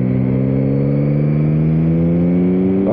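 A 2021 Yamaha MT-09 roadster engine pulls steadily under acceleration, its loud, continuous droning note rising gradually in pitch for about three seconds with no talk over it.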